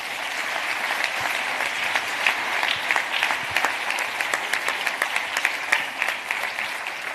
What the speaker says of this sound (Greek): Ένα χειροκρότημα για όλους.